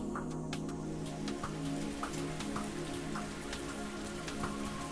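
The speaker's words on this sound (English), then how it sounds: "the downpour striking the trees around them" Video game rain, a downpour striking the trees, hisses steadily with scattered sharp drops and pattering hits throughout, soft and even, with no voices.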